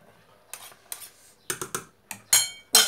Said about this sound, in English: Keep stirring, don't let it burn.